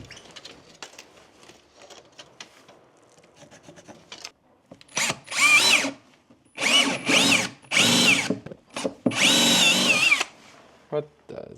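Bursts of a power drill whining into material, several on-off runs of a few seconds each, loud and close, after quieter handling and faint talk, during off-grid cabin insulation work.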